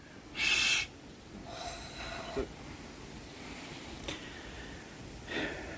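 Someone blows into cupped hands to imitate an owl's hoot outdoors on a Thames riverside path, producing a few breathy, hollow tones separated by puffs of air and pauses.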